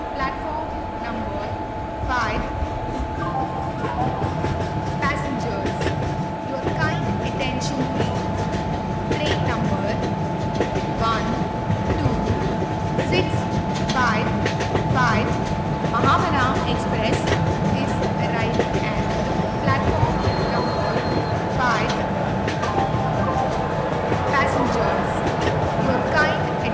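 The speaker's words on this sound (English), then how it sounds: "Shatabdi Superfast Express is arriving at platform number 5" Shatabdi Superfast Express train pulling into a platform at an Indian station, a continuous rumble of rolling wagons with a sustained whistle-like tone and bustling station noise, voices and announcements over it.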